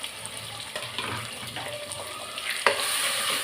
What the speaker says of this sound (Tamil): இதையும் போட்டு நல்லா வதக்கிக்கிடலாம்.